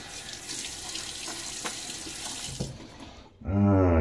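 Tap water runs steadily into a bathroom sink during a wet shave, a close, continuous hiss, with a few small knocks before it cuts off and a loud burst of water follows.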